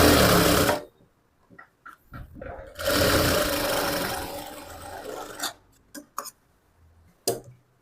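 A sewing machine stitches blouse fabric being converted into a frock, running in a loud close whirring burst, pausing, then a longer steady run, followed by scattered short clicks and handling noises.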